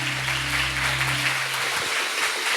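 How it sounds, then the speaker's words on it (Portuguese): A church congregation claps loudly and steadily, a dense wash of applause with a low sustained organ or keyboard tone underneath that fades out midway. "E pode aplaudir o Senhor bem forte"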